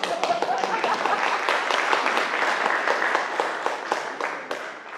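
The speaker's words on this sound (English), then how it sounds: "Yeah, give a round of applause." A Christmas concert audience applauds steadily, a dense wash of many hands clapping that holds evenly loud for several seconds before easing slightly at the end.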